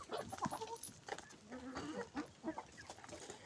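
Domestic hens cluck and murmur softly at a distance in a farmyard, still roaming before roosting, scattered low calls overlapping in a quiet yard.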